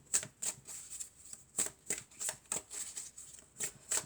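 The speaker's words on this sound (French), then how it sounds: "On va tirer les cartes pour ce mercredi." A deck of oracle cards, an Annabella oracle deck with its extension, is shuffled for a reading, giving quiet, steady riffling and tapping in regular bursts, with no talking.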